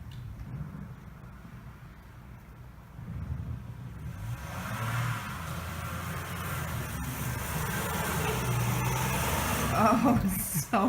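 Car engine revving while stuck in snow in a driveway during a blizzard, a rising engine drone building over several seconds amid wind, with people talking faintly.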